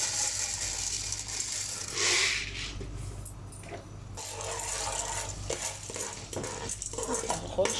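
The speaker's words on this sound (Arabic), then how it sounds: "تعالوا كده واحنا بقى بنقلب ذرة الفشار كده" Popcorn kernels with oil and salt being stirred in a pot at home, giving a continuous rattling scrape and faint sizzle close by, with some indistinct voices in the background.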